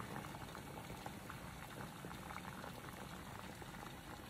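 Water boils in a pot with a bagel dropped in, a steady dense bubbling and hiss that runs evenly throughout at close range.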